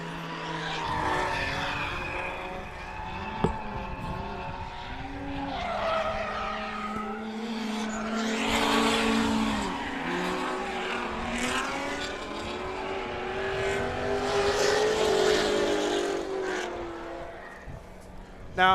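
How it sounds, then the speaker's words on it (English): Mazda Miata drift car spinning out at a winter drift event at a race circuit, tires skidding with long wailing squeals and engine noise, layered over a commentator's voice throughout. "And then the Miata spins out right behind,"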